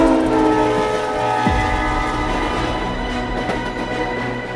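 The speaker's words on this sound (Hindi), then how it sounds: "इस एनिमेशन के माध्यम से आसानी से समझा जा सकता है कि कैसे ये रेलगाड़ी इस पुल के ऊपर से गुजर रही है।" An animated train crosses the Pamban rail bridge with a loud, continuous rumble. Sustained horn-like tones are layered over the rolling noise, and no voices are heard.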